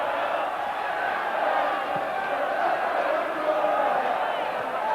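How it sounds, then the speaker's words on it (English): Supporters at a 1981/82 Bradford City versus Hull City football match sing "Going Up Again", heard as a steady, dense roar of massed voices that continues without a break for the whole stretch. "And the crowd now singing "Going Up Again.""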